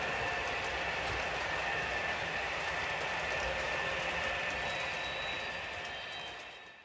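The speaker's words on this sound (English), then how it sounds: "I still love running the trains over its tracks." Model trains roll steadily along a layout's tracks, a continuous close rumble with faint clickety-clack and thin high whine throughout, no voices, easing off slightly at the end.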